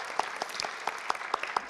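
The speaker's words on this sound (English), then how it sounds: "a round of applause" Short burst of scattered applause at a college plenary session, a modest number of individual claps popping unevenly, close and clear with no talking.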